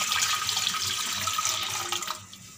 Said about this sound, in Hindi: ये मैंने लिया है एक पैन, और 3 कप उसमें मैं पानी डाल रही हूँ